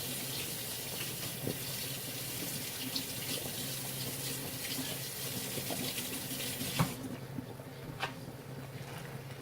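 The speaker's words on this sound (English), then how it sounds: "I'm just going to do a quick rinse of the spoon." A spoon being rinsed under a running kitchen tap during beef and chorizo pasta sauce prep, a steady close hiss of flowing water that changes tone near the end, with faint clinks of the spoon.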